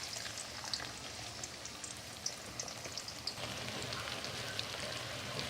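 Onions sizzle in hot oil in a pan, a quiet, steady hiss with scattered small pops and crackles throughout.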